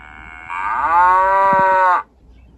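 A cow's moo played from a children's sound book, one loud sustained lowing call lasting about a second and a half, close and clear before cutting off.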